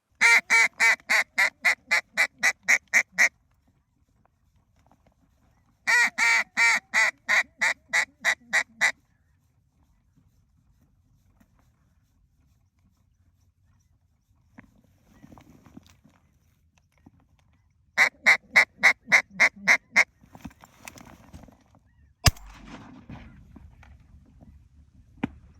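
Ducks quack out on a hunt. Loud, close bursts of rapid, evenly spaced quacks are separated by quiet stretches with faint rustling and a sharp knock near the end.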